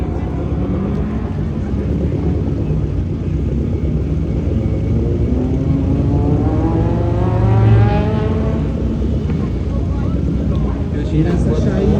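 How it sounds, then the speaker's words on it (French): Lancia Delta rally car at the Rallye du Chablais stage near Champéry, Switzerland, its engine droning with a rising, revving pitch as it passes, loud and rumbling under constant commentary talk. "Lancia Delta."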